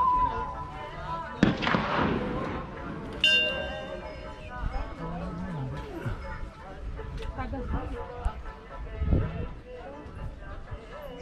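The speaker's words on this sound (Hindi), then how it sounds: "ये देखिए वो और फायरिंग प्रैक्टिस वो चल रही है।" Distant gunfire from firing practice near a large Balaji temple complex in Khalda, Narnaul, sounding as a few sharp, echoing bangs spread through the clip beneath ongoing talk and outdoor background noise.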